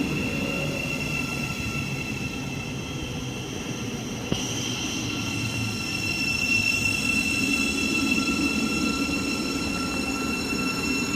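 Thameslink passenger train arriving and braking to a stop at Elstree & Borehamwood station, with a sustained loud rumble, high squealing wheel and brake tones, and steady electric whine throughout.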